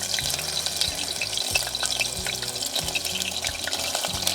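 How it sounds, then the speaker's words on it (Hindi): Soybean chunks frying in a pan at a winter forest campsite, a steady close sizzle broken by repeated knocks and scrapes of stirring. "चलो पहले सोयाबीन फ्राई करोगे?"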